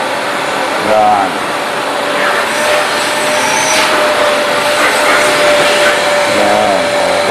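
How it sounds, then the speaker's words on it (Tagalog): A vacuum cleaner runs steadily during a home renovation cleanup, a loud continuous whine with a sustained tonal hum that stays close and constant throughout, while people talk faintly in the background. "Vacuum yan"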